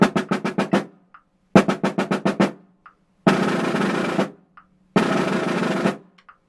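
A snare drum plays loud rolls: two runs of rapid separate strokes, then two sustained buzz rolls of about a second each, 13-stroke buzzes in 16th-note triplets, with short gaps between.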